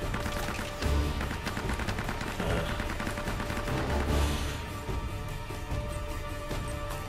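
Intense gunfire and explosions from the Uncharted: Drake's Fortune video game crackle densely throughout, with a couple of louder low thumps from a grenade exchange standing out in the chaotic firefight.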